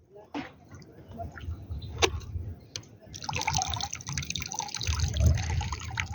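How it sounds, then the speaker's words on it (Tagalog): Water being poured out at a beach campsite in Calatagan, Batangas, a splashing trickle from about three seconds on that holds steady, mixed with light background noise and a few sharp knocks. "Tinatapon niya yung tubig."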